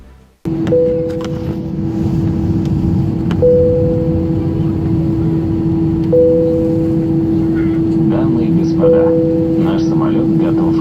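A steady, loud airplane engine drone hums throughout inside the cabin, with a soft two-note chime repeating every few seconds over it.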